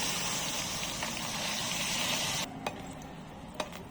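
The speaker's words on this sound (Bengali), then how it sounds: "অল্প একটু তেল দিয়ে দিলাম বেগুনটা ভাজবো" Eggplant fries in a little oil in a pan, giving off a steady, close sizzle that drops abruptly to a softer crackle partway through, with a couple of faint clinks afterward.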